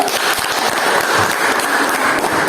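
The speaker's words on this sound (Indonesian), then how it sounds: "Ya, kita beri aplaus dulu." A classroom audience applauding: dense, loud, close clapping that runs unbroken from start to finish with no pause.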